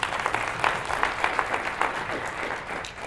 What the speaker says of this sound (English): That wasn't a very resounding applause.